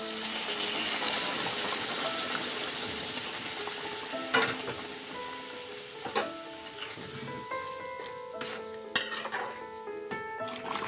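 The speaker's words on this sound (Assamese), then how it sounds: "আঞ্জাখন মোৰ উতল আহি আছে" Chicken curry, Assamese style, simmers and sizzles in a pan with a steady bubbling hiss throughout, broken by a few sharp metallic clinks and scrapes of a utensil against the pan.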